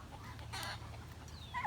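Large farm-raised turkeys cluck faintly at a distance amid low background rumble, a few soft calls ending in a sharper pair of clucks.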